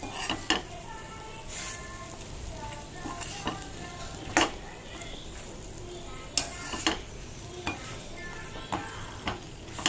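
Okra coated in Jain masala with besan cooking in a pan, a soft steady sizzle broken by repeated sharp clinks and scrapes of a spoon stirring against the metal.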